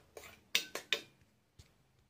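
A spoon knocks against a bowl while egg, salt, pepper and bread crumbs are mixed for a Mughlai paratha, giving a handful of quiet, irregular clinks and scrapes followed by a short pause and one last tap.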